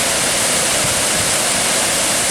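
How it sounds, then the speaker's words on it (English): Seneca Falls, a waterfall in the Seneca Creek backcountry, roars as a dense, steady rush of falling water, loud and close, with nothing else rising above it. "I'd say the best waterfall we've seen so far."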